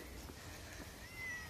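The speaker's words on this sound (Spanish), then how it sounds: "Otro gato." A cat meows softly on an outdoor village walk, a faint, short call partly buried under steady wind and background noise.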